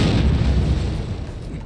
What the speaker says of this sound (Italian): esplosione sotto al culo